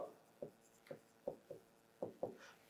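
Marker or chalk writing out a parabola equation on a board during a JEE maths lesson: about seven short, distinct scratching strokes with brief pauses between them, close and fairly quiet, with no talking.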